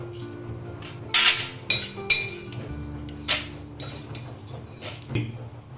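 Metal utensils clink against a pan while roasted oats are lifted out, giving several sharp, close clinks and scrapes at irregular intervals.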